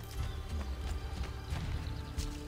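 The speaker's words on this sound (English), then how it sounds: "there are horses here." Horses in Assassin's Creed Brotherhood clip-clop in a quick, uneven rhythm of hoof strikes under a dense, noisy game soundscape, fairly loud and close.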